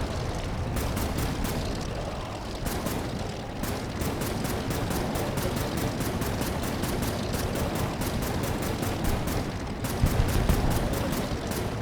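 Rapid bursts of gunfire from the video game Air Wars 3, steady and loud throughout, with dense repeated shots over a constant roar of combat noise and a brief louder swell near the end.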